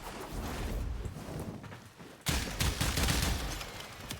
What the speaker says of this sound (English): Now shoot the heavy gunners.